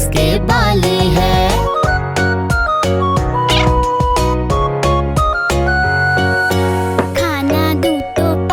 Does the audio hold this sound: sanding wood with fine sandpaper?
no